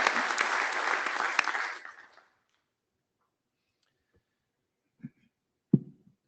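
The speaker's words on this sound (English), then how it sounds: "let's give a big round of applause to Sharat" Audience applause at a networking research workshop, a loud burst of clapping lasting about two seconds that fades out, followed by silence and a couple of faint knocks.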